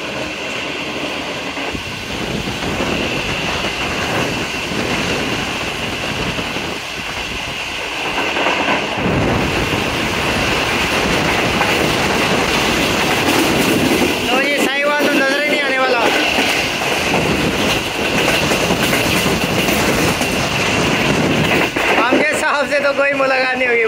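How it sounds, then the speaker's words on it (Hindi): A moving train runs near Sahiwal, with a continuous loud rumble and rattle heard from on board, rising in intensity partway through, with brief whistle-like tones and speech mixed in. "तो साहिवाल के पास गाड़ी पहुंच गई है"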